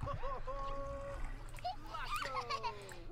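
Bath water splashing in The Sims 4, a soft wet sloshing under chattering, high-pitched character voices that keep talking throughout.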